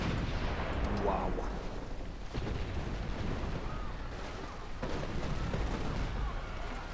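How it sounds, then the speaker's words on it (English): Air bombing attack in Civilization V, a continuous rumbling roar of explosions and artillery-like booms at moderate loudness, with a few sharper bursts over the din. "She's air bombing Attila's court."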